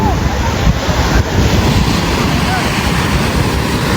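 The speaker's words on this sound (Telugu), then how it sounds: "అలలు బాగానే గట్టిగానే వస్తున్నాయి" Strong sea waves surge continuously onto a beach at Vizag, a loud, dense roar of surf mixed with gusty wind buffeting the microphone.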